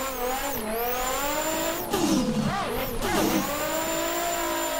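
A Nissan S15 competition drift car held in 6th gear around a banked track, its engine droning at high, steady revs with pitch sweeps and tire squeal, close and loud throughout.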